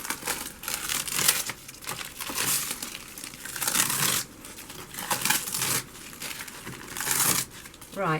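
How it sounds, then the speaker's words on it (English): Masking tape peeled in crackling, crinkling bursts off the front of glued polymer Moroccan-style tiles, the tearing rasp rising and falling in several pulls over steady close-up noise. "peel the masking tape off the front"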